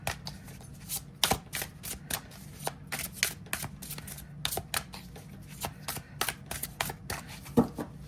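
A deck of cards is shuffled by hand in repeated quick riffling bursts, crisp and close, with brief pauses between the flurries against a quiet room.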